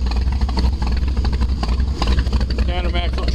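The 468 motor of a 1975 22-foot V-drive Schiada boat, idling with a loud, lumpy, rumbling rhythm from a cammed engine, close by, with someone talking over it.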